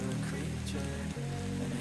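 Steady rain falls in a constant broadband hiss, with a low hum running underneath, on a trip heading downhill toward Dumbara.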